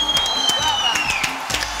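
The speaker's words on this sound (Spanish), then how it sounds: "Aplauso para Flavia," A studio audience applauds during a television talk show, brisk scattered claps with thin whistle-like tones over them and light crowd noise underneath.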